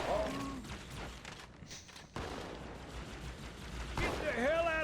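SMG gunfire in the video game Halo sounds as rapid, crackling bursts, partly masked by game voices and shouting.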